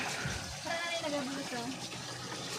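Water gushes steadily as it is poured in to fill a home aquarium during a water change, a continuous splashing flow with a person talking faintly under it.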